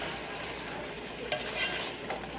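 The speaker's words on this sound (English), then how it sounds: "And just add it on here as it's browning, so it gives it some flavor. Stir it around." Browning picadillo is stirred in a pan, giving a steady quiet sizzle with a few soft scrapes and clinks of the spoon against the pan.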